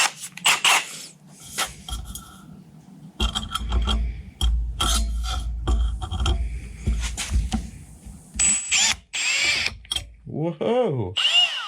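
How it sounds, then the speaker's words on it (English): A power drill starts small, boring into stainless steel with bursts of whining and grinding that stop and start again. A louder, higher tone rises near the end, and a person talks between the bursts. "We're gonna start small with this drill bit because stainless."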